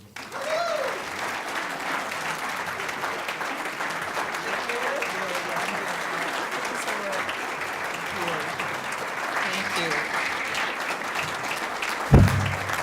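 Audience applause welcomes Minnesota Superintendent of the Year Sandy Lewandowski at an awards event, a loud, sustained clapping from a large crowd that holds steady, then a sharp thump near the end.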